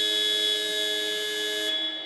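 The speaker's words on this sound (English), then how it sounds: "as you can hear by obnoxiously loud buzzer." A loud, steady electronic buzzer sounds at an outdoor ultimate frisbee championship game as time runs out, a harsh sustained tone holding for about two seconds before cutting off.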